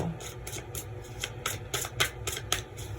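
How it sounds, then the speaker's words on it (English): Repeated crisp riffling bursts of a card deck being shuffled, quick rhythmic flutters close by with no talking. "One more shuffle."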